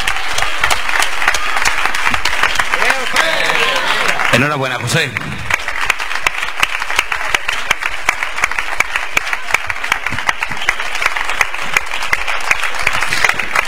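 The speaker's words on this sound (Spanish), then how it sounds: "Un fuerte aplauso para él." Sustained applause from an audience at a national serranas flamenco singing contest in Prado del Rey, Cádiz, loud and steady for the full stretch, with a voice briefly calling out congratulations over it.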